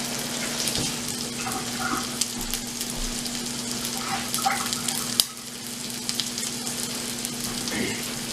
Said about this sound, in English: You can hear the sear of the steak going on.